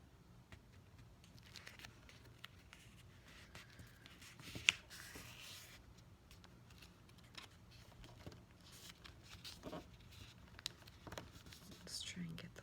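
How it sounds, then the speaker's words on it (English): A paper note is folded in half toward the middle with soft, close crinkles and light creasing rubs, quiet and intimate, interspersed with faint whispery soft speech. "Now we're going to take each half and just fold it"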